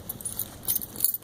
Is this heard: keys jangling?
yes